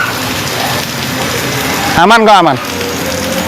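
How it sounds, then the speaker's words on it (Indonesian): Steady rain falls outdoors over an orchid garden, a continuous hiss running through the clip beneath a voice, with a brief louder burst partway through. "Nah ini hujan masalahnya, kehujanan ya."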